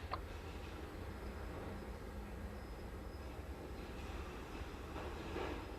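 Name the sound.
BNSF local freight train switching cars at lumber mill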